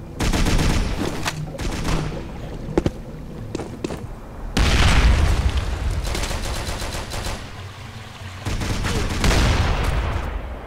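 A grenade blast and gunfire in a shooter video game: loud booming bursts and rattling shots come in waves, with sharp close impacts separated by quieter moments.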